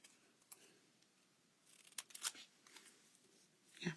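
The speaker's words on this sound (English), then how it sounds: "I'm just going to snip off the ends diagonally" Faint, close snips of scissors cutting the ends of paper strips diagonally at a crafting table, a few quiet isolated cuts spread over a soft background.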